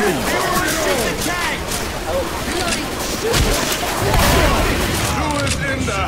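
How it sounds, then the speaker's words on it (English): Rapid gunfire from shooting zombies and a tank in Left 4 Dead 2, a loud, dense run of overlapping shots and booms, with players talking over the fighting. "Oh, shoot the zombie. Shoot the tank."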